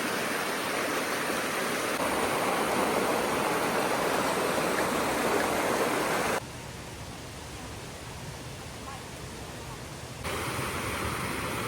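Waterfall on a mountain stream in Quebec City, a steady loud rushing roar of falling water that continues throughout, briefly dipping in level before swelling back up.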